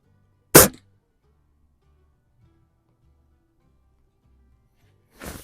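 A Xisico XS46u .22 caliber underlever air rifle fires two sharp, close shots, one near the start and one at the very end, with near silence and faint low rustling between them.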